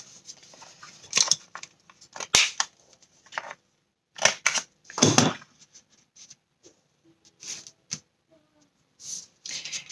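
Scissors snip the corners of paper for a homemade Christmas album, giving close, crisp cuts in irregular clusters separated by short pauses.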